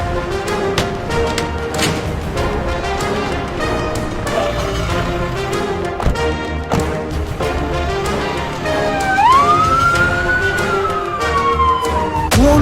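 An ambulance siren starts wailing near the end as the ambulance departs, rising and sweeping over busy street noise and clattering sounds that continue throughout.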